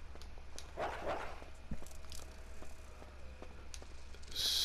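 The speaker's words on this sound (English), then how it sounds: "Like now, I know there's some dogs in here because I've played this game to death." Dogs bark and yip a few times amid a dim, humming background in the survival horror video game Resident Evil 2 remake, the barks sounding muffled and somewhat distant, with scattered clicks and other noises around them.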